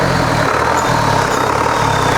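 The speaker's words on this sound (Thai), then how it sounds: "เสียงเทอร์โบเพาะๆนะครับ" An Isuzu 4HE1 turbo diesel engine, a 150–175 horsepower unit, runs loud and close with a deep, steady throb and a rising turbo whistle, holding high revs without pause and with no talking over it.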